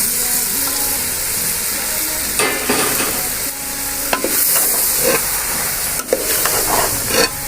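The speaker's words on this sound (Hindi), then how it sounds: "अब हम इसमें भिंडी डालेंगे।" Okra tipped into onions frying in a pan, a steady close sizzle with scraping stirs and clatters of a utensil against the pan, no talking.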